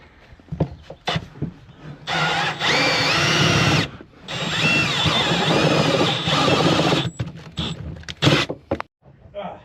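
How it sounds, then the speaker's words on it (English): A power drill with a cone bit bores through the metal floor of a Ford Transit van, whining in two sustained bursts separated by a short pause, with clatter and brief talk before and after. "we'll just get our drill bit with a cone, and then the cone will just go right through the floor, right through the metal bit"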